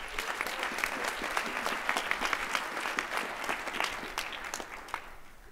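A crowd applauds at a school prize announcement, with dense, sustained clapping that holds steady and fades slightly toward the end, with no voices over it.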